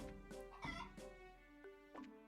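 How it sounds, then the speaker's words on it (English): Chickens cluck and a rooster crows in the Trails in the Sky SC video game, a few faint, close bird calls over a low background hum without speech. "Talk to the chickens."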